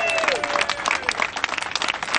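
Audience applause after a speaker's line, a dense, steady patter of many hands clapping close by for about two seconds, with a few whistles and voices mixed in.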